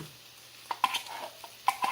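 Creamy potato soup scooped from a pop-top can with a spoon, a few soft wet scrapes and light metallic taps in quick succession, close and quiet.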